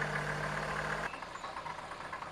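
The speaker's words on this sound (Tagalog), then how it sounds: "naka 15 minutes na po tayo na nakaandar po yung makina" A ninth-generation Toyota Corolla Altis engine idles during a radiator flush, giving a steady mechanical hum that drops to a quieter, slightly uneven drone partway through.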